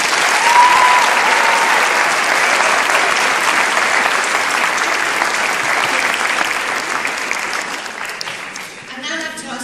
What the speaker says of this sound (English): So can we please have a round of applause for fabulous.